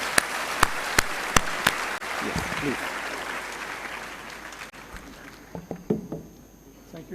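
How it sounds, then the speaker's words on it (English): An audience applauds a Nobel laureate at an event in India, a dense roar of clapping with a few sharp close claps in front, fading gradually as a brief spoken exchange comes in near the end. "Let us clap for the Nobel laureate."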